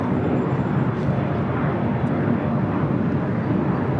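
A Lufthansa Boeing 747 "Queen" at LAX, with a dense, steady jet engine rumble filling the air at close range, unbroken and without speech.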